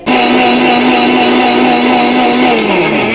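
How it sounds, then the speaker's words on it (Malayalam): An electric mixer grinder whirs loudly and steadily, close by, grinding grated coconut, fennel, onion and water for egg curry, then winds down toward the end. "നമ്മുടെ മുട്ടക്കറിക്ക് വേണ്ടിയിട്ട് തേങ്ങ ചിരകിയതും നമ്മുടെ വലിയ ജീരകവും ഉള്ളിയും വെള്ളവും കൂടി ഒഴിച്ചിട്ട് നമ്മൾ നന്നായിട്ട് അരച്ചെടുക്കട്ടെ"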